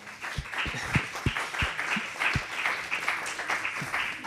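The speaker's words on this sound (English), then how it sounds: "But just want to give you guys a round of applause." Conference audience applauding a panel, a soft, fairly distant spread of many clapping hands with a few closer, sharper claps near the start, no voices heard.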